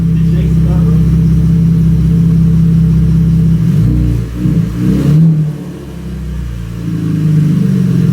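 A Chevrolet Camaro RS V6 with a straight-pipe exhaust and no muffler revs loudly up close, a deep sustained engine roar that dips and swells briefly midway before settling back, with people talking nearby.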